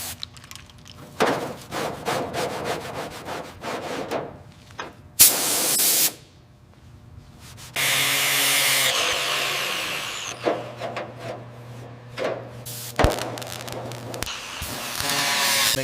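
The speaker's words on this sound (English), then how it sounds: "We'll need to grind these down before treatment." A power grinder works pits out of a 1969 Camaro Z/28 body panel, loud and close, in repeated bursts and longer harsh passes separated by short pauses.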